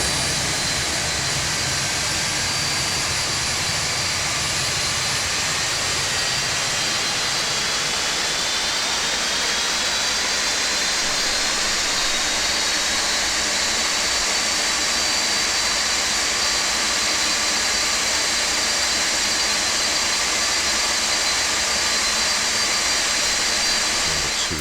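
Four-engine jet airliner engine spooling up in a flight simulator, a Boeing 747-200 on the ground, giving a steady loud turbine whine and roar with a slowly rising high tone that builds and holds throughout.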